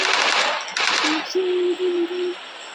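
Gunfire from the mobile battle royale game PUBG Mobile: a short burst of rapid shots followed by a few clipped electronic tones, moderately loud with no talk over it.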